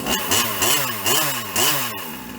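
A small 36cc two-stroke RC car engine buzzes loudly at close range during break-in, revving up and down in several quick, rising blips over a rough idle.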